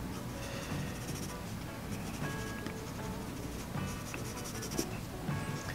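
Graphite pencil shading on paper while drawing a pirate skull, a steady close scratchy rubbing that continues with little pause and no talk.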